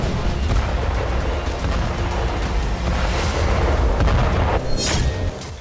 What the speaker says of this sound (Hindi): अमेरिकी अटैकमस मिसाइलों के इन धमाकों का अंजाम ऐसा धमाका भी हो सकता है।